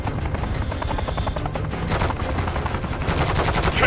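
Dense, continuous gunfire from Call of Duty: Modern Warfare III, with rapid automatic bursts and heavy low booms filling the whole stretch at a steady, loud level.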